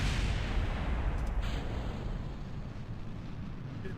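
A spaceship breaks apart in Kerbal Space Program with a heavy, rumbling explosion that starts loud and broad, then decays into a fading roar over a few seconds.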